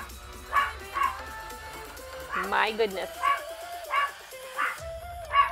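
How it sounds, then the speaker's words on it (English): A dog barks and yips in a series of sharp, evenly spaced calls close by, with a person speaking briefly between them during a home gardening session. "Why are you barking?"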